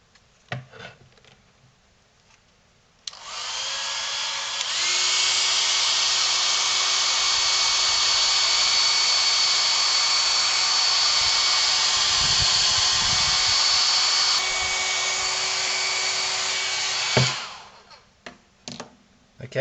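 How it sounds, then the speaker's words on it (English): A hot air blower roars steadily for about fourteen seconds, heating the plate of a Cricut EasyPress 2 that is under repair for an E3 fault. The airflow starts abruptly, swells a moment later and then cuts off. "So now I'm just going to blow some hot air at the plate and we'll see if the temperature goes up."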